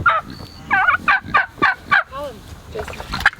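Turkeys at a chicken coop gobbling in a rapid series of warbling calls, close and fairly loud.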